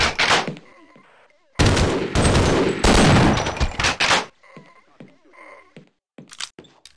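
Shotgun blasts in the video game Half-Life: Prisoner Escaped, with heavy, loud bursts of booming gunfire in the first half followed by quieter scattered thuds and clicks.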